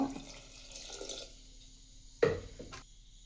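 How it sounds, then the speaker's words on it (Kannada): Water splashes into a pot of lentils in short bursts, quiet at first, then a louder gush followed by a few trailing drips. "ಬೇಳೆ ಮುಳುಗೋಷ್ಟು ನೀರು ಹಾಕ್ಕೊಂಡ್ರೆ ಸಾಕು"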